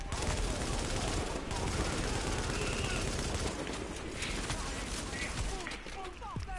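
Continuous gunfire in a co-op console shooter set in Manhattan, bursts and volleys blending into a dense, steady clatter throughout, with players talking over it.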